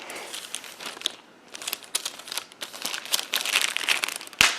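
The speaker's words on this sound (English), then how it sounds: "first things first, is we will remove this sticker here" A sticker being peeled off a Lenovo ThinkPad T440s ultrabook, heard as a close, continuous crinkly rasp with small crackles and one sharp snap near the end.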